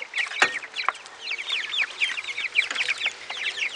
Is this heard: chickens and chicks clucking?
yes